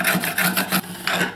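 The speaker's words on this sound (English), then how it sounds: "I'm just going to give that a run over with a chisel," A chisel scrapes rough bits out of a wood joint in a quick series of short, close rasping strokes, about six of them in a rhythmic back-and-forth.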